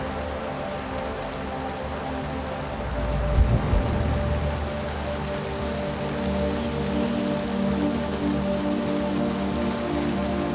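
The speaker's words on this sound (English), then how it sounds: "So we'll hope this rain pours itself out overnight." Heavy rain pours steadily in rugged Himalayan mountain country, a dense continuous hiss of drops drumming on surfaces, briefly swelling louder partway through, with no voices.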